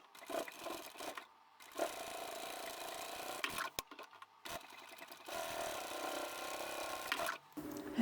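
A sewing machine stitches through layers of fabric and zipper on a lined boxy bag. It runs in several bursts of steady whirring with brief pauses and small clicks between them, fairly quiet and alone.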